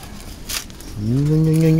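A goat gives a single drawn-out bleat up close, preceded by a brief rustle.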